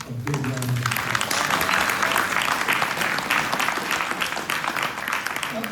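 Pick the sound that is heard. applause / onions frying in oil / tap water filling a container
applause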